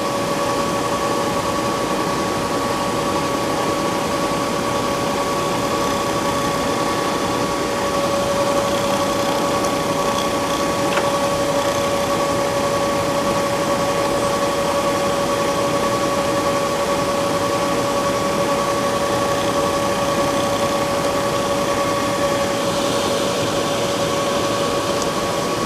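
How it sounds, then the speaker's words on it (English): A milling machine spindle runs continuously with a steady high whine and constant mechanical hum, unchanging and close for the whole stretch, with no voices. "We're going to turn our spindle on."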